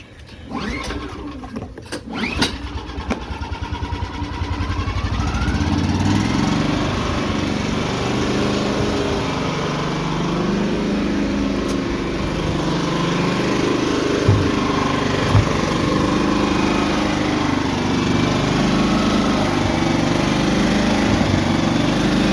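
A Firman 3200 generator with its side cover off is pulled into life after a few brief rattles and then drones loudly and steadily on its internal fuel tank for the rest of the time, with no talking.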